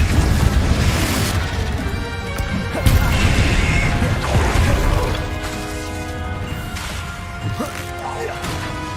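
A Confringo spell blasts in Hogwarts Legacy, a series of loud crashing impacts and booms with whooshes and clattering debris, the biggest hit near the middle, then lighter thuds as the noise tails off.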